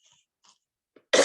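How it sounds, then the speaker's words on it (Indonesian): A single sharp cough bursts out near the end after a moment of near silence and faint breaths. "Maaf ya, batuk."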